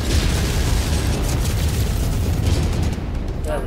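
A continuous, loud rumbling blast from a target being destroyed in a BattleMech video game, a dense roar sustained throughout with no pause and no talking.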